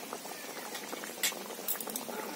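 Hilsa fish curry with mustard paste simmers in a pan, giving a soft, steady bubbling with small pops, heard close and alone.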